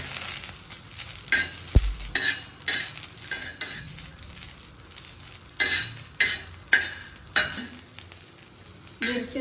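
Garlic and green chilies sautéing in a pan for Maharashtrian chili thecha, a crackling sizzle broken by repeated sharp scrapes and clinks of a spatula stirring, close and continuous.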